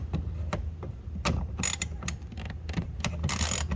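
Ratchet wrench clicking in short bursts while a tight bolt is broken loose on an Alfa Romeo rear diffuser, close and fairly quiet, with scraping mechanical clatter between the ratcheting strokes.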